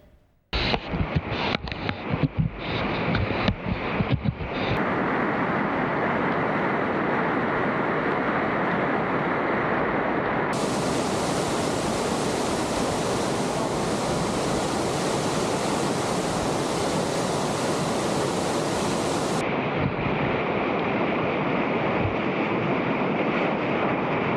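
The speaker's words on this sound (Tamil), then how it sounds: "சாலைகளில் ஆறு போல வெள்ளநீர் பெருக்கெடுத்து ஓடுவதால் போக்குவரத்து முற்றிலும் முடங்கியுள்ளது" Floodwater surges like a river through city roads in Spain after torrential rain, a loud, unbroken rushing roar with a few sharp knocks at the start and no voices.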